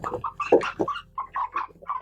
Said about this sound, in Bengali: মুরগিটাকে আপনারা এইভাবে ধরবেন